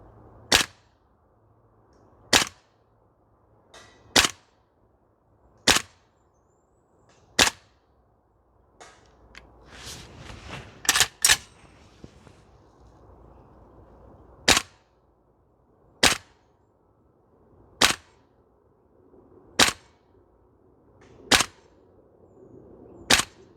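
A DE Ghetto Blaster MWS airsoft rifle fires BBs on an outdoor range, sharp single cracks spaced a couple of seconds apart, about a dozen shots, with some handling clatter midway.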